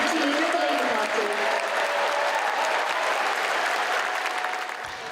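Sustained applause fills a Labour Party conference hall after the Prime Minister's speech, a dense, steady wash of clapping that holds evenly before tapering off slightly at the end.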